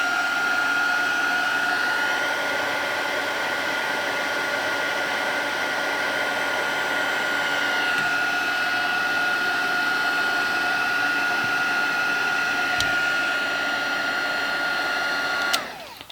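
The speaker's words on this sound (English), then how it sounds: "or you can dry it with a heat gun" A heat gun blows hot air in a continuous, steady whine and rush, close and loud, holding constant before cutting off at the end.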